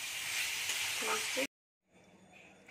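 A spice paste of chili, cumin and turmeric fries in a pan with a loud, hissing sizzle that cuts off abruptly partway through, then comes back faintly.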